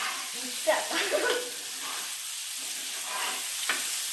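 Soya chunks frying in a pan give a moderate, steady sizzle with a few scraping flips of a spatula, and a faint voice murmurs briefly underneath.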